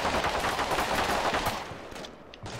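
Dense bursts of automatic gunfire and rifle shots crackle continuously as area fire in the modern combat video game Combat Mission Shock Force 2, loud and sustained before easing slightly near the end.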